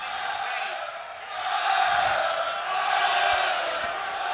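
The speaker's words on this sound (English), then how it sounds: "And the Connacht crowd roaring their team on here." A Connacht rugby crowd roaring their team on, a broad, swelling stadium roar that builds and rises twice while a commentator talks over it.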